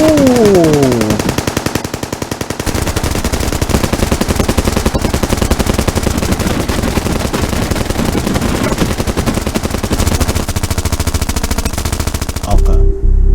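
Sustained automatic gunfire from the SAF 44 clash in the Philippines, a dense, loud rattle of rapid bursts that runs almost without pause, with single shots near the start and a sudden cutoff at the end.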